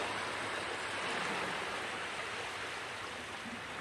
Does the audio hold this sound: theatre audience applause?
no